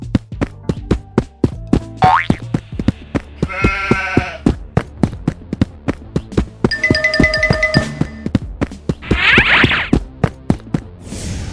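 Mouflon sheep bleating, a couple of bright nasal calls in among rapid percussive knocks, boings and a steady beat of a backing track, the bleats sitting loud and close over the music.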